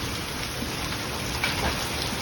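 Heavy severe thunderstorm rain with hail over Kannapolis pours down as a dense, loud, unbroken roar, with faint scattered impacts in the steady downpour.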